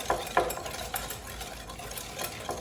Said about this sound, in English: And I'm just gonna give it all a whisk to combine.